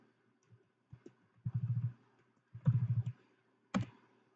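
Several quick bursts of key clicks on a computer keyboard while entering a setting in Betaflight FPV drone configuration software, each burst a short rattling run of taps, close and fairly quiet, with gaps of near silence between.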